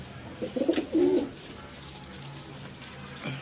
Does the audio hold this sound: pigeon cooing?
yes